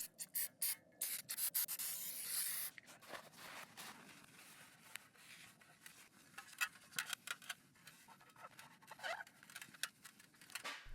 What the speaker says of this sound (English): Clean the pan thoroughly with brake cleaner.